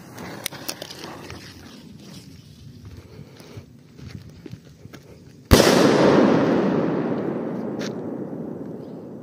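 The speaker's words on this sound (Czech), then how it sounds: "Petarda má opravdu 2 gramy a je to od Albánců." A 2-gram Classic Pyrotechnic firecracker made in Albania explodes with a single sharp, loud bang midway through, followed by a long fading rumble and echo over quiet outdoor background noise.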